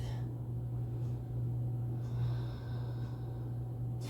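Slow, audible breathing during a home yoga flow, close inhales and exhales over a steady low hum, with no talking.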